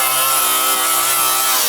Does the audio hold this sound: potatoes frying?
no